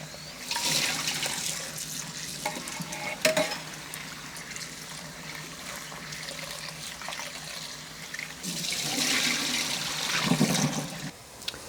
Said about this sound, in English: meanwhile we should wash our red lentil and make it ready